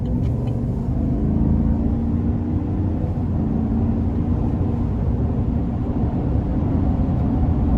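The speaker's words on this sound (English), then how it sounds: "We'll give it a little throttle here." A 2022 Chevrolet Silverado 1500 TrailBoss pickup with the 6.2-liter V8 pulls away under moderate throttle, a steady deep engine rumble heard from inside the cab, loud and continuous with no talking.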